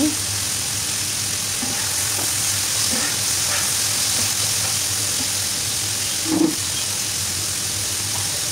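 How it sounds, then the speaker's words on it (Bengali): Vegetable bhaji fries in a pan with a steady, close sizzle while it is stirred, and a few soft scrapes and knocks of the spoon rise above the constant hiss. "এখন নাড়াচাড়া করে খুব সুন্দর করে ভেজে নিচ্ছি।"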